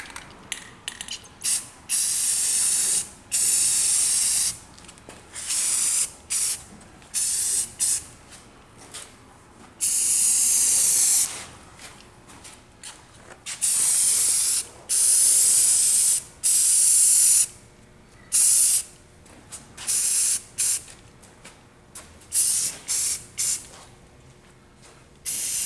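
An arcade part is spray painted with an aerosol can in repeated short bursts of loud hissing, some brief and some lasting a second or two, separated by quiet gaps and light mechanical clicks, with no talk.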